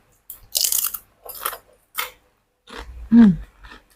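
Crisp crunchy chewing of sayur lodeh nangka with small crunchy teri anchovies, several close bites and crunches in short bursts with pauses, loud and dry, no talk over it.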